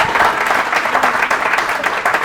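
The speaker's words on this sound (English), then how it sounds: "Let's give her a round of applause once more, ladies and gentlemen." Steady applause from an audience at a book launch event, filling the room with dense, even clapping throughout.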